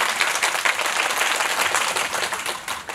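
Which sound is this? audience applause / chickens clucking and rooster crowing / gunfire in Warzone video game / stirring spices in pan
audience applause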